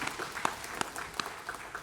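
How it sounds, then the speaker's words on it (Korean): Worshippers clap during a Korean church service in a congregation hall. The claps are quick, overlapping and moderately loud, with a few sharper hands standing out. "박수로 하나님께 드리겠습니다."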